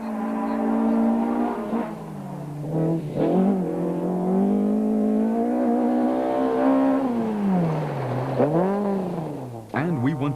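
A rally car is driven hard through corners at the Osram Rally 2005, its engine revving loud and close, pitch climbing and dropping sharply with gear changes and lifts between bends.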